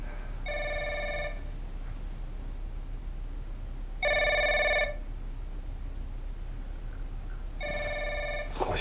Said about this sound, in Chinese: 好像是你屋里边电话响